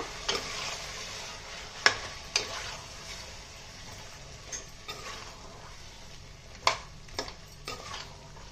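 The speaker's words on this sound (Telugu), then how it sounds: "ఈ మసాలా అంతా బాగా పట్టేటట్టుగా కలుపుకుందాం" Raw mango chicken being stirred with masala in a pan, a steady soft sizzle with scattered sharp scrapes and clinks of the spoon against the pan, no talk.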